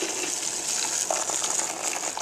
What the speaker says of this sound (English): You just go ahead and add the boiling water to the corn that's already